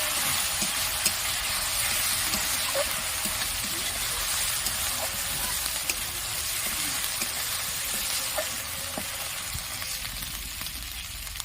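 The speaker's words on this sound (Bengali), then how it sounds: "ভালোভাবে মশলাটা কষিয়ে নেবো।" Spiced masala with chili powder and Kashmiri chili powder frying in a pan for begun sundari, a constant close sizzle broken by soft occasional scrapes of a stirring spoon.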